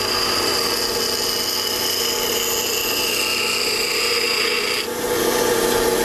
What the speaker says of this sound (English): So what I'm trying to do is finish up again with the stone running parallel to the edge of the